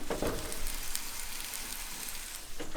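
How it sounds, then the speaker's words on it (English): Steak sizzling and frying in a hot pan, a steady close crackling hiss with scattered pops and no talking. "It's finally sizzling."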